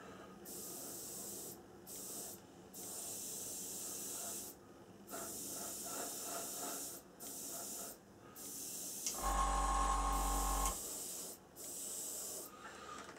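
Airbrush or spray can laying wet coats of paint over decals on a Globemaster III scale model, a steady hissing spray in several bursts with short pauses between, close and fairly loud with no talking.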